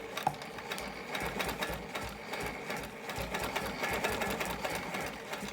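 A sewing machine quilting along a ruler on a wholecloth quilt, its needle stitching in a steady, fast, continuous whir with no talk over it.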